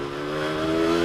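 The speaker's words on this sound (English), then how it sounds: "take the vintage bike out, clear the jets out" A vintage motorcycle engine revs with a steady, buzzing harmonic drone that slowly builds in loudness, heard close up.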